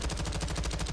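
The Icarus machine gun fires in Warzone 2, a steady rapid stream of loud, punchy automatic shots in an unbroken burst.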